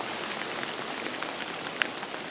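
Steady rain falls on a tree and the ground around it, a dense even hiss with fine drips and one sharper drop near the end, and no voices.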